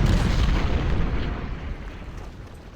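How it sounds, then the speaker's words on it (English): Booming artillery fire in the Civil War strategy game Ultimate General at the Battle of Thoroughfare Gap, a dense continuous rumble of cannon blasts, loud at first and slowly easing off. "let's just let the artillery do as much work as they can"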